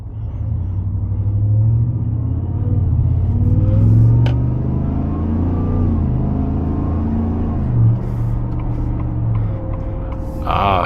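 A supercharged 5.0 V8 pickup truck accelerates hard, its deep engine rumble climbing and holding steady through the gears, loud and close throughout.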